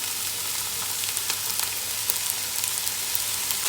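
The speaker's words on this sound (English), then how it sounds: "So just fry around your sofrito, stirring it to make sure it doesn't catch on the bottom" Chopped sofrito vegetables fry in hot olive oil in a pan, a close, steady sizzle with scattered crackles and scraping stirs.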